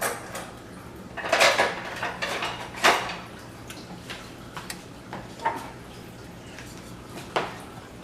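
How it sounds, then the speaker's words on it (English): Someone in a home kitchen rummages for a small spoon while making a veggie pizza. Close, clattering clinks of cutlery and dishes come in bursts, then fade to sparse taps. "I need to get me a little spoon."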